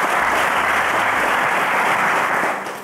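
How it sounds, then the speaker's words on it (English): A studio audience at a televised quiz show bursts into loud, dense, steady applause that holds throughout, then starts to fade at the very end, with no talking over it. "Ladies and gentlemen, a round of applause."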